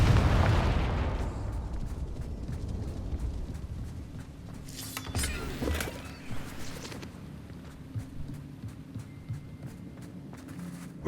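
Confringo blasting spell in Hogwarts Legacy, a burst of explosive booms around the middle of the stretch, moderately loud, followed by lingering rumble and faint footsteps in game ambience.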